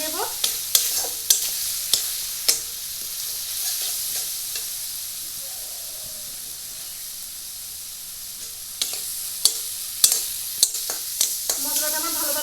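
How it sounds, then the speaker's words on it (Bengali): Spice paste for kakrol jhal (spiny gourd curry) fries in oil in a pan with a little water, sizzling steadily while a spatula scrapes and stirs in sharp irregular clacks, clustered at the start and again near the end. "এখন আমি মশলাটাকে ভালো করে কষিয়ে নেব।"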